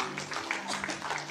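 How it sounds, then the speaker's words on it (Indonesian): A church congregation claps during a sermon, a brief, fairly faint patter of applause mixed with murmuring voices in a large room. "Tepuk tangan buat Tuhan."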